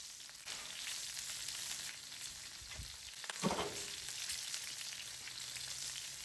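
Oxtail and chuck plate sear in rendered fat over an open fire outdoors, giving a steady crackling sizzle with a brief louder spatter partway through, close and without speech.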